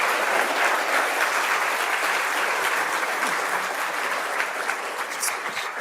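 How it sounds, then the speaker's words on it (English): Steady, dense applause from a conference audience at a plenary session, many hands clapping continuously at even loudness throughout with no pauses. "I think that Johan owes another round of applause."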